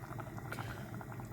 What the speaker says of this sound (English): So we're starting to get a boil on.